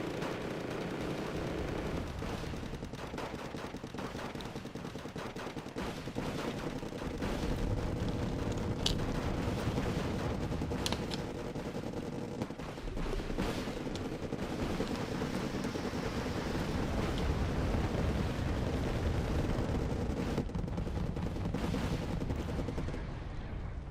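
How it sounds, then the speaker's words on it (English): Napalm bombing in the video game Wargame Red Dragon, set in jungle combat: a continuous dense rumble of explosions and rattling gunfire, steady and moderately loud throughout, with occasional sharper cracks. "Napalm in the middle"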